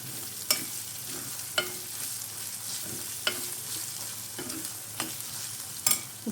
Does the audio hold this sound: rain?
no